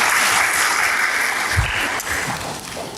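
A church congregation applauds during a sermon with a full, even wash of clapping that holds steady and then thins slightly near the end.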